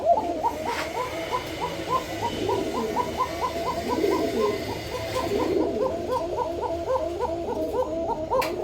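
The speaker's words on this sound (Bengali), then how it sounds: "আশা করি বন্ধুরা ডাকটা শুনছেন। এটা হচ্ছে কুকা কবুতর বন্ধুরা," A Kuka pigeon coos in a steady, repeating rhythm close by, its soft throaty calls continuing without pause against faint background hiss.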